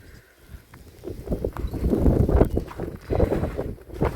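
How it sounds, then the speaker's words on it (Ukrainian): Gusty wind in a winter snowstorm roars and buffets in uneven surges, rising and falling loudly with a low rumbling rush and no voices. "Ох і вітер."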